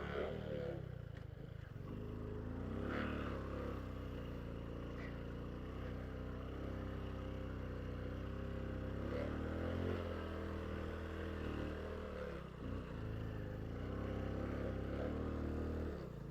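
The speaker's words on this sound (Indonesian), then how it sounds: "Ban motor gue selip, teman-teman." A motorcycle engine labours on the volcanic sand savanna of Mount Bromo as its tyre slips, giving a steady, fairly loud droning rumble that holds throughout with small surges in revs.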